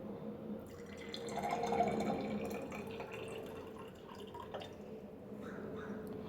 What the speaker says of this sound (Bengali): জল ঢেলে দিতে হবে।